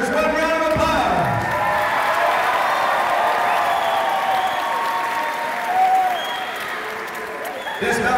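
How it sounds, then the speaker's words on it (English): A crowd applauds fighters after an MMA bout, broad sustained clapping and some cheering at an event venue, with an announcer's voice over the start and the applause thinning slightly near the end. "Let's give these two fighters one round of applause."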